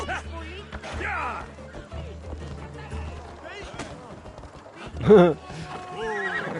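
A horse whinnies loudly over rapid galloping hoofbeats and clattering game effects in Assassin's Creed Odyssey, while people talk excitedly throughout.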